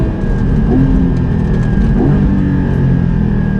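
A Porsche 718 Cayman GT4 with a naturally aspirated engine drones loudly and steadily from close by, its note swelling slightly as it revs, with no voices.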